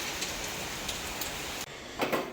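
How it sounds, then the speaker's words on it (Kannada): Heavy rain pours down as a dense, steady hiss with scattered drop patter. It cuts out briefly near the end, then returns with a couple of louder splashes. "ಜೋರೇ ಆಯಿತು ಮಳೆ."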